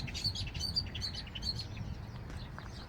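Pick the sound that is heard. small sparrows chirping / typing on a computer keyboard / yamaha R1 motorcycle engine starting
small sparrows chirping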